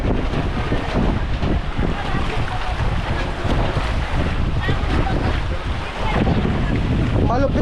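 Strong typhoon wind roars at the shore, buffeting the microphone nonstop with surging waves underneath, loud and unbroken throughout with no clear voices.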